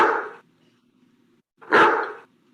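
A dog gives two loud, sharp barks, close up and spaced about a second and a half apart, with near silence between them.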